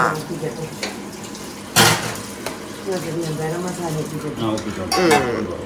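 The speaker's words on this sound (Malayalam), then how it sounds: "ഇതാ ചിക്കൻ കറി ആയിക്കൊണ്ടിരിക്കുകയാണ് കുറച്ച് ഇളക്കി തക്കാളി മസാലയും ഗരം മസാല എല്ലാം ഇട്ടുകൊണ്ടിരിക്കുകയാണ്" A chicken curry with tomato, masala and garam masala is stirred in a pot, giving close scraping and sizzling with a sharp clatter near the two-second mark, while voices talk in the kitchen.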